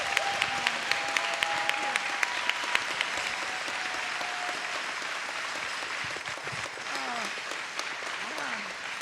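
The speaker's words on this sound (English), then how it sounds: "Round of applause," A crowd at the 2024 Classic Tetris World Championship claps steadily in sustained applause, with a voice speaking over it near the start.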